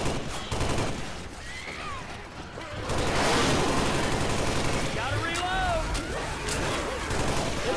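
Game gunfire in Left 4 Dead 2 with a Halo mod, a dense, loud stretch of rapid automatic shots under urgent overlapping voices and chaotic action sounds.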